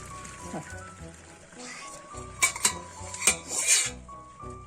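Cooked handmade gnocchi are drained from a pot in a kitchen: clanking pot and metal knocks, a splashy pour, and cutlery clatter under a running background hum.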